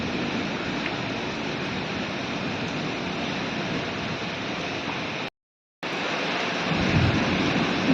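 Heavy rain pours in a loud, unbroken wash of noise in Khunti, Jharkhand, steady throughout with a short dropout partway through.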